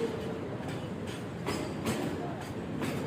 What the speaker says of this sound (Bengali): বিশাল বড় তেলবাহী ট্রেন যাচ্ছে দেখতে পারতেছেন আপনারা